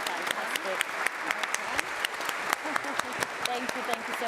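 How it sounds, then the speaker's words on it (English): An audience at a co-operative congress applauding a panel: sustained crowd clapping with crisp individual claps standing out, while a voice talks over it. "can we give our panel a round of applause?"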